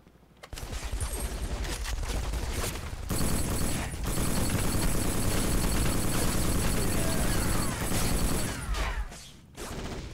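Bursts of rapid gunfire in the PlayStation 2 game Black crackle and boom almost continuously, with short pauses between volleys and a few mechanical clicks, loud and dense.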